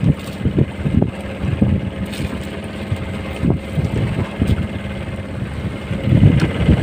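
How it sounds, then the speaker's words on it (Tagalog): Strong wind buffets a small fishing boat on rough, choppy sea during the northeast monsoon, producing continuous gusty rumble and irregular thumps and splashes of waves against the hull, fairly close and steady throughout. "Malakas yung hangin at saka maalon-alon, kaya hirap patakin."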